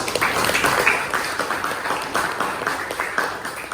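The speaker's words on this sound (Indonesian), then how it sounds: "Bagus, berikan tepuk tangan untuk Lukas" Classroom applause for a student named Lukas, a group of pupils clapping in a lively, uneven patter that stays fairly loud and close throughout.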